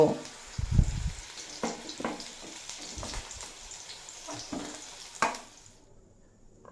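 Potato pieces and tender young flat beans fry in hot oil with a soft, even sizzle broken by a few dull knocks and clinks before it thins out at the end.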